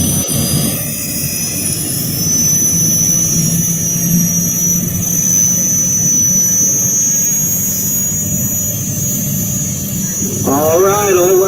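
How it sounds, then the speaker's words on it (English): Loud, steady jet engine roar from a jet-powered pulling vehicle at a truck and tractor pull, with a broad rushing noise and high whine, sustained throughout; a brief voice-like warble near the end. "Let's hear them jet engines spool up."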